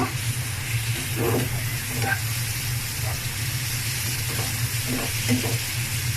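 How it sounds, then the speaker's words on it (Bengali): Mustard greens being stirred into prawns frying in oil, a steady low sizzle with a few soft scrapes of the spoon, fairly close and even throughout. "আমি অর্ধেক দিয়ে মাছগুলোর সাথে মিশিয়ে নিব"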